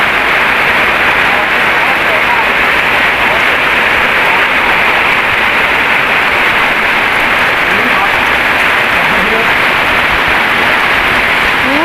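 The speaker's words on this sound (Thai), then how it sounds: "ฝนตกเด้อพี่น้อง" Heavy rain storm in Talat Pho, Buriram, with a steady dense hiss of downpour loud and continuous throughout, a voice talking over it.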